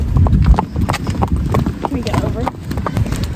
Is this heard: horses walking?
yes